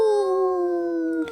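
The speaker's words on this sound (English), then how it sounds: "followed by a wolf howl in the background" A single sustained wolf howl rings out loud and steady as a sound effect, holding one long tone before cutting off abruptly, with no voices over it.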